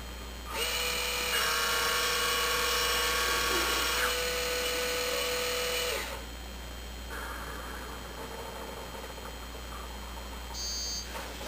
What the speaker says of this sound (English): You can hear the motor running in the background.